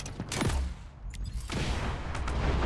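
Rapid bursts of gunfire in the mobile shooter Delta Force Mobile, loud and close, with overlapping shots and booming impacts rolling through the whole stretch.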